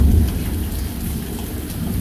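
Steady heavy rain pours down in a Denver lightning storm with a deep rumble of thunder at the start, a continuous wash of storm noise with no voices.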